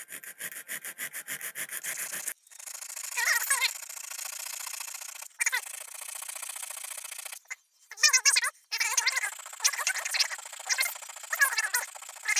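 Blued 1911 pistol metal rubbed by hand with 220 grit sandpaper, giving quick raspy back-and-forth strokes in short bursts separated by pauses, close and fairly loud.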